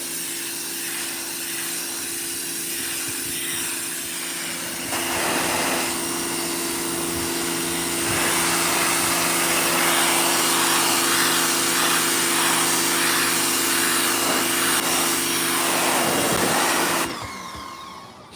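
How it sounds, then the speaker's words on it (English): A power washer blasts built-up grime off a surface in a loud, continuous hissing roar that intensifies after a few seconds and cuts off near the end. "this power washer is going pretty good here, and it's taken a lot to come off of it."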